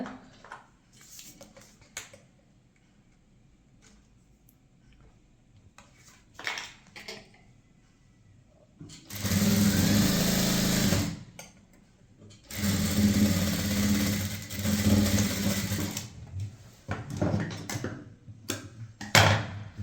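A sewing machine stitches a blouse in two steady whirring runs of several seconds each, close and fairly loud, with quieter handling clicks and soft background noise between them.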